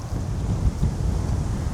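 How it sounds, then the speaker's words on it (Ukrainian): Wind gusting over the Dniester river while fishing, a steady broadband rush with low rumbling buffets against the microphone, loud and continuous, with no speech. "і вітресько почав дути"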